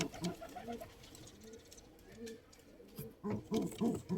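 Pigeons coo close by, with repeated low, throaty coos rising and falling in short phrases, and a brief rustle between calls.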